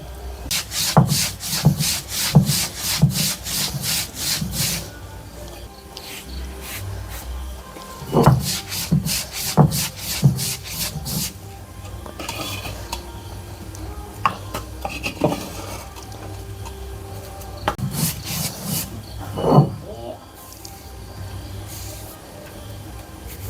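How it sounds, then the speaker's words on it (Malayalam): Dried shrimp and roasted coconut are ground on a stone grinding slab, giving rhythmic scraping and rubbing strokes, close and clear. Quick bursts of repeated strokes alternate with slower single scrapes, with no talking. "ഇത് നമുക്കൊന്ന് അമ്മിയിൽ വെച്ചിട്ട് പൊടിച്ചെടുക്കാം"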